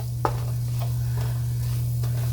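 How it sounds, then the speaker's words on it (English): An onion and shallot mixture is stirred in a pan for a coconut curry chicken, with a few distinct scraping strokes over a steady low sizzle. "So we're just gonna mix the onion and the shallot up"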